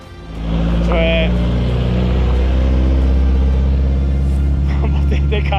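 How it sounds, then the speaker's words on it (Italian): Opel Ascona 400 Group 4 rally car at loud, steady engine drone with deep rumble throughout, stones kicked up against the underside of the chassis on a rally stage; a brief higher whine cuts in early on. "il rumore dei sassi che vengono sparati sotto lo chassis dell'auto"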